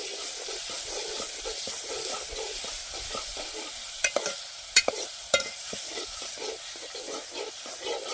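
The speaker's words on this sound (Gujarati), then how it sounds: "ડુંગળી નાખ્યા પછી હલાવી રાખો." Chopped onions fry in hot oil for a kantola sabji in a village kitchen, with a steady close sizzle while a spoon stirs and scrapes the pan, making a few sharp metallic clinks.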